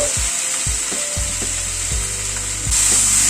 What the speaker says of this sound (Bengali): টমেটোটা দিয়ে একটুখানি নাড়াচাড়া করে নেব।